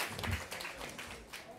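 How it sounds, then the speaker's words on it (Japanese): Applause from a crowd at a Japanese MC rap battle event, a brief dense patter of clapping with speech mixed in amid the noisy live venue. "エスカイロにも拍手。"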